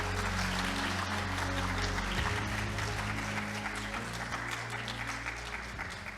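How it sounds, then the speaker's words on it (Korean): Audience applause at an academic conference session of the Kim Dae-jung Peace Conference, a sustained crowd clapping under a steady hall hum with faint tonal music, moderately loud and continuous throughout. "여러분 큰 박수 부탁드리겠습니다"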